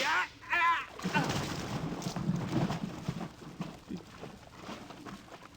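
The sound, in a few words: gunshot in radio drama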